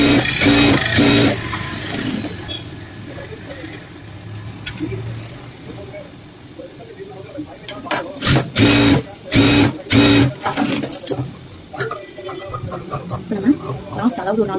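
Sewing machine stitching a blouse, running in short loud bursts of rapid needle chatter separated by pauses, with someone talking in between and over the stitching.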